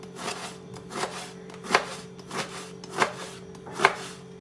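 A knife chops through sliced eggplant and potato, cutting them into matchstick strips on a board in a series of crisp, evenly spaced taps, close and clear, with no voices.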